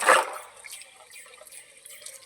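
Tap water rinses a kitchen sink after cleaning, opening with a brief close splash that settles into a soft, steady trickle.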